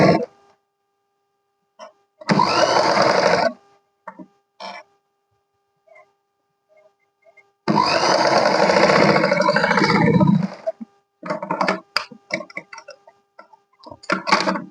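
Sewing machine running in two long stitching bursts along the front of a 40-inch katori blouse, loud and close, separated by quieter handling clicks and pauses, with short rattling taps toward the end.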